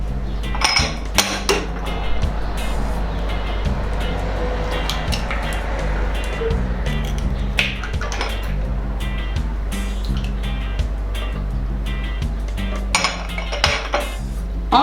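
Coconut oil and an egg stirred together in a bowl, a utensil clinking and scraping against the dish in a steady, busy rhythm over low background hum, with no talking.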